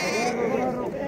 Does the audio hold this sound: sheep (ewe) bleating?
yes